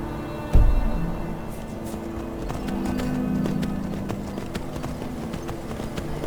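Horse hooves gallop in a steady clip-clop rhythm in Skyrim, starting with a sharp thud and continuing as a fast, even patter over a low ambient game background, fairly close and moderately loud.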